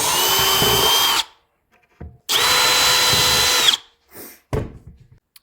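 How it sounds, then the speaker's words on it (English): A power drill bores a hinge cup hole in a 3/4-inch cabinet door using a Kreg European hinge jig: two loud, steady whirring bursts of about a second each, separated by a pause, followed by a few short knocks. "so I just set my drill bit to inch out of the collar, and then just drill away"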